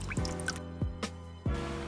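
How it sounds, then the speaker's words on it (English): Old coolant dripping and draining from a car during a coolant change: three distinct close drips land about half a second apart over steady trickling, with no voices. "It'll take a little while to get it all out. And then when it kind of stops dripping"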